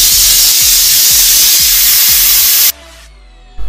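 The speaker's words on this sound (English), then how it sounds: "cook it in the pressure cooker for about half an hour" A pressure cooker steaming chickpeas gives off a loud, steady hiss with faint rhythmic rattling underneath, then falls almost silent before the hiss briefly returns.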